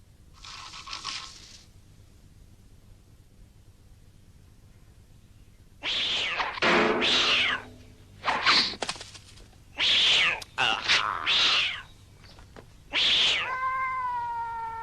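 A cat meows and caterwauls in a series of loud, drawn-out, wailing cries, one brief call followed after a pause by several long yowls in quick succession, close and clear over a quiet low hum.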